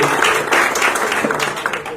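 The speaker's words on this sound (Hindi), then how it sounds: "स्वामी जी का जोरदार तालियों से स्वागत करें।" Applause from an audience at a Jain journalists' association discussion forum, welcoming a visiting swami from Pandharpur; a short, dense burst of many hands clapping with some voices mixed in.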